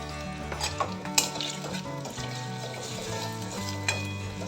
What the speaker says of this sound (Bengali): এই মশলাটা একটু নেড়ে নিচ্ছি